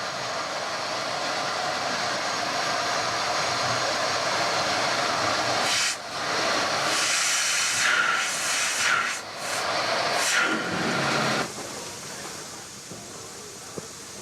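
Preserved steam locomotive number 44871 hisses at Birkhill station on a Scottish heritage railway, a loud sustained steam roar with surging bursts before easing to a softer hiss at the end.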